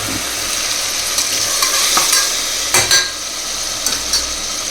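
Chopped tomatoes sizzle and simmer in a pan, a dense crackling hiss close by, punctuated by a few sharp clinks and scrapes of a stirring spoon, with no talking.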